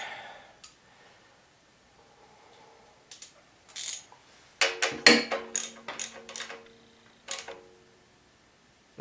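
Metal fuel system fitting on a Coleman generator being tightened with a tool, giving a run of sharp clicks and clanks that bunch together in the middle, close by and moderately loud with no talk.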